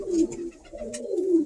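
Birmingham Roller pigeons cooing in a loft, two low rolling coos close by, with faint rustling and no talk.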